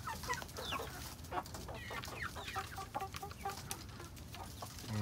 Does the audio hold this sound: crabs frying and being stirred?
no